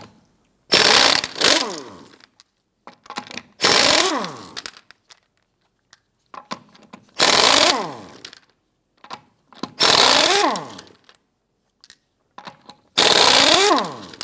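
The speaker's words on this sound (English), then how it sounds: "Now on the passenger side rear, we want to go ahead, loosen, and remove these lug nuts." An impact wrench loosens and removes the lug nuts on the passenger-side rear wheel of a 1997–2006 Jeep Wrangler. Five loud, close bursts of rattling wrench noise are separated by quiet gaps with small clicks.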